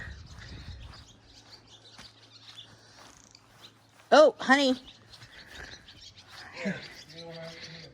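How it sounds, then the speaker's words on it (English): Birds chirp outdoors at the Fort Stevens historic military site, with a quick pair of loud, close calls midway over quiet background. Someone speaks briefly near the end. "I know those birds are chirpity chirpity."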